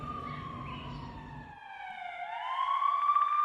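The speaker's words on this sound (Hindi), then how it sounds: "पूरे इजराइल में बज रहे हमलों के सायरन" Air raid sirens wail across Israel during an Iranian missile attack, a rising and falling siren tone that grows louder and swells toward the end over low rumbling background noise.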